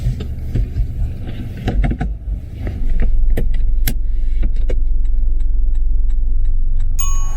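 A car moves off from a car park on a driving test. A close, loud engine hum builds and then holds steady, with scattered clicks and ticks over the first few seconds.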